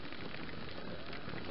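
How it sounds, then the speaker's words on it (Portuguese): Heavy rain pours steadily during a motorcycle ride in Brazil, a dense continuous hiss of drops with low wind and road rumble underneath, loud and unbroken throughout. "E a chuva tá engrossando."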